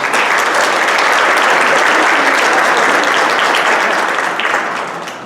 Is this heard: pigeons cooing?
no